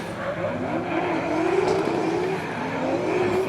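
A drift car at a D1NZ pro championship qualifying round in Wellington accelerates through a transition on the race track, its engine note rising and falling as it revs, heard from a distance.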